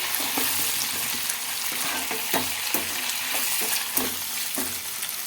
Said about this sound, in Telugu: ఇప్పుడు లాస్ట్గా చిన్నగా తరిగిన ఆనియన్స్ అయితే వేసుకుంటున్నానండి